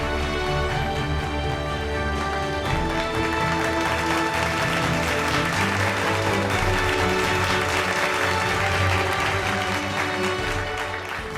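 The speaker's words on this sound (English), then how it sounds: "Let's have a huge round of applause, please." A large audience at the HealthX Elevate grand finale award event applauds in a dense, continuous wash of clapping, with music playing underneath.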